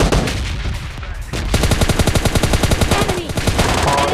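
Rapid bursts of automatic fire from an MK rifle in PUBG Mobile Lite, loud and close, a short pause and then a long fast string of repeated shots.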